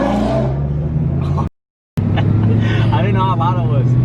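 Supercharged Cobra engine revving loudly, a close, heavy roar that cuts out in a brief gap and then resumes, with people talking over it.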